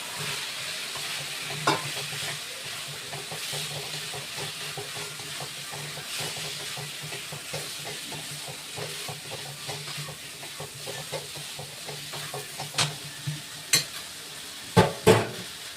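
Sautéed masala for a fish curry with taro being stirred in a pan, with a soft continuous sizzle under rhythmic scraping strokes, and a few sharp clanks of utensil against pan near the end.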